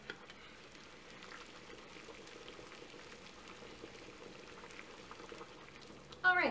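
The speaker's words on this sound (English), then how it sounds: "I'm going to just go boil this in some water" Water bubbling at a rolling boil in a pot, a steady close crackling and popping hiss that runs unbroken, with a brief louder knock near the end.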